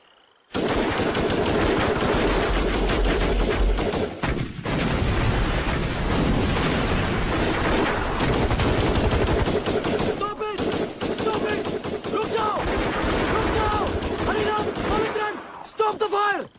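Heavy, continuous gunfire from a film battle scene: loud, rapid machine-gun bursts and rumbling blasts that go on almost without a break, with shouted voices in the thick of it.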